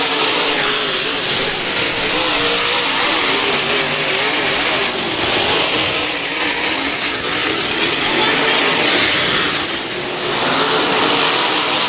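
Race cars roaring past steadily during a memorial race lap, a dense, loud engine drone with slight swells as cars pass, continuous and without pause.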